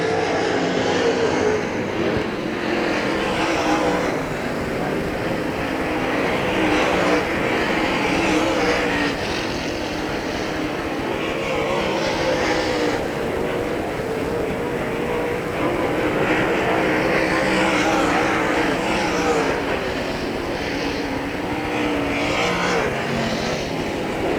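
Pure stock race cars idle and rev during warm-ups at Hagerstown Speedway, a steady loud engine drone with rising and falling revs throughout, no clear talk.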